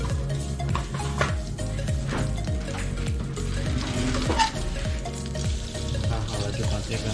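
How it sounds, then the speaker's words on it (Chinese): Butter melts in a pan while making mung bean cake, giving a steady low sizzle with faint stirring and light clinks throughout, and no voices. "然后把黄油融化"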